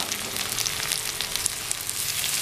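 Cabbage, capsicum and red chilli frying in a pan for vegetable noodles, a steady close sizzle with fine crackling pops throughout and no voices.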